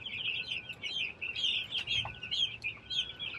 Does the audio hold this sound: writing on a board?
no